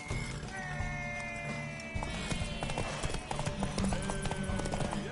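Horse hooves clip-clop steadily in The Witcher III video game, with game music and ambient sound playing underneath.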